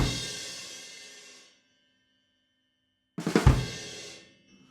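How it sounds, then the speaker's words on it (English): Two fast drum fills, each a quick two-stroke with an accented left-hand hit crashing into a cymbal, separated by a gap of silence; the crash washes and fades after each burst, close and loud with no voices. "Sometimes I do it as a 2-stroke with a left hand accent into the crash"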